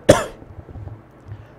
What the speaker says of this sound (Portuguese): Não é coronavírus, é só tosse mesmo.